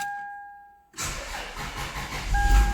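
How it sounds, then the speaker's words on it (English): A car with a weak battery, low on charge and carrying a check engine light, cranks over sluggishly after a chime, the starter grinding loudly and steadily with a warning tone returning near the end. "it feels like it's struggling to crank over"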